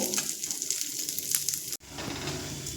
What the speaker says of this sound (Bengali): দেখুন ডাল আমি লাল করে ভেজে নিয়েছি